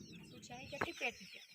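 A batch of young chicks gives a few faint, high chirps in quick succession, quiet and set over a low murmur that may be a voice in the background.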